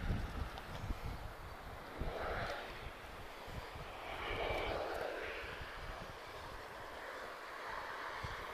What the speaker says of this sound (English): arriving from Toulouse, A321neo. This is EasyJet.